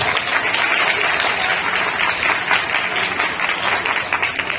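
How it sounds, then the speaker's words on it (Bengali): Schoolgirls at an assembly applaud their teachers in a dense burst of many hands clapping together, loud and sustained throughout with no break. "তোমরা একটা হাততালি দাও"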